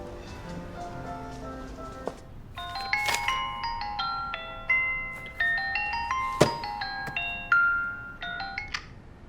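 A phone rings during an outgoing call, playing a bright, melodic electronic tone pattern that repeats in short phrases over several seconds, clear and moderately loud with no talking.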